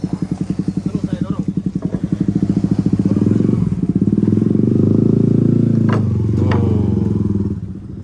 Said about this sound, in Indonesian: Nih ada motor naik.